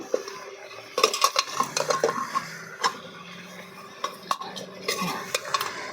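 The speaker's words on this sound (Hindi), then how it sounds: "अब इसमें हम डाल देंगे कटहल को। अब इसको हम भून लेंगे।" Spatula scraping and clattering against a pan as jackfruit is stir-fried over a village wood stove, with a low sizzle underneath, in quick irregular strokes up close and no talking.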